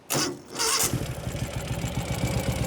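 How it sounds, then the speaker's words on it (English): A 2016 Ural Gear Up 2WD motorcycle cranks briefly, then its engine catches and settles into a close, steady, rumbling idle. "Pretty much one turn of the starter fires right into life."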